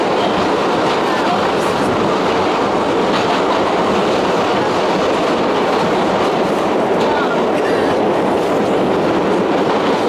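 A northbound New York subway 1 train runs with a loud, continuous rumble and roar, steady throughout with faint rattling on top and voices barely audible under the noise.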